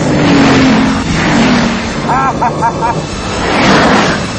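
A Bugatti Veyron, 1,000 horsepower, roars at very high speed around 300 km/h, a loud sustained engine howl with wind rush, swelling and easing as it pulls hard.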